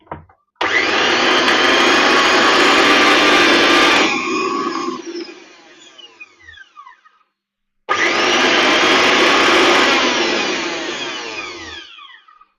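A repaired mixer grinder runs at full speed in two loud, close bursts of motor whine. The first spins down with a rattling fade, and after a pause the grinder starts again and runs before winding down.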